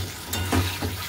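Spice paste for fish curry sautéing in hot oil, giving a close, steady sizzle with a couple of brief stirring scrapes and no voices.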